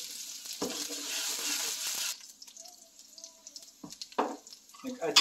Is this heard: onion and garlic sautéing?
yes